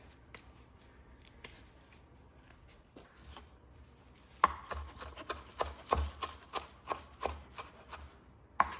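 Fresh parsley being chopped with a knife on a cutting board, sparse taps at first, then a quicker run of close, crisp knife strikes.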